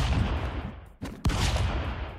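Gunshots in the stick-figure brawler game Stick Fight, a dense stream of rapid gunfire with two sharp louder shots close together midway, filling the whole clip without voices.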